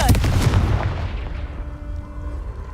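A Confringo fire spell blast goes off in Hogwarts Legacy, a loud, sharp burst at the start that booms and then fades into a lingering rumble with faint tonal hums.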